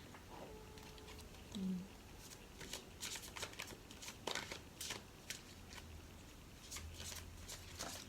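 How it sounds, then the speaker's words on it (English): Tarot cards from a Psychic Tarot deck are handled and shuffled in soft, faint bursts, with light riffles and taps scattered across a quiet indoor room. "I'm going to pull a card from the Psychic Tarot deck here"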